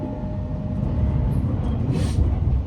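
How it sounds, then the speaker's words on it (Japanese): A commuter train rumbles loudly as it crosses a bridge over the Yamato River just after leaving Ōji station, with a steady rolling roar and a brief higher screech near the end. "王子駅を出てすぐ電車は大和川を渡ります"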